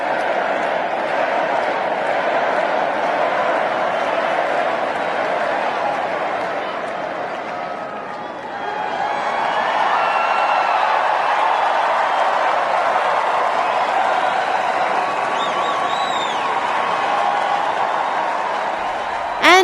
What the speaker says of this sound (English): the auditorium of supporters cheering his name